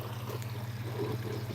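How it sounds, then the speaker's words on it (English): A water pump runs steadily outdoors near a pond where bullfrogs call, giving a low continuous hum with a faint trickling wash over it, alone and without speech. "I think that's the water pump probably."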